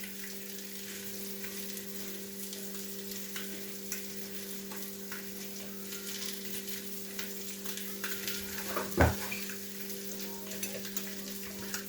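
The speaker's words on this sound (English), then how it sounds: "Warming back up in the pan." Breakfast food warming back up in a frying pan, a quiet steady sizzle with faint crackles and one brief clunk of the pan or utensil.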